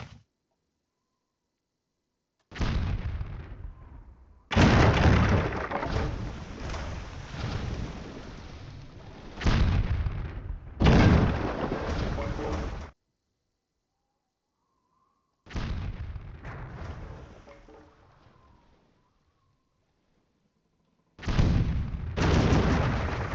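Naval cannons fire during a sea battle in the video game Patrician 3, heard as long roaring bursts of gunfire that come in several separate waves with quiet gaps between them.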